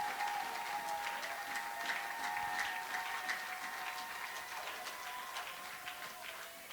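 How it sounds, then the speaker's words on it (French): Church congregation applauding together for Jesus Christ during a sermon, a steady dense wash of clapping hands that holds at even loudness throughout, with no talking over it. "Can we clap for Jesus Christ?"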